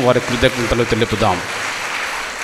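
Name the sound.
audience applause in a cathedral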